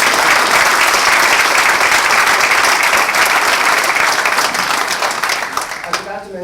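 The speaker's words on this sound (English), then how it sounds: "Another big round of applause for Janno" Sustained applause from an event audience at a foundation case study release, a dense steady wash of many hands clapping together that tapers off near the end.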